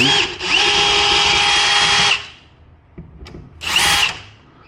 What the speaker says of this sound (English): So let's go ahead and remove the screws.